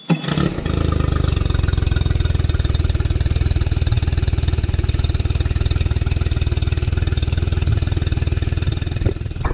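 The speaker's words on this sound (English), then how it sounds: "I'm just going to turn the boat on" A boat engine turns over and settles into a steady, loud idle while being flushed, its low rhythmic chugging holding constant until it cuts off at the end.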